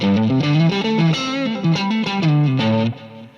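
A distorted electric guitar plays a melodic riff through an amp with a thin, bright tone and heavy reverb, loud and continuous.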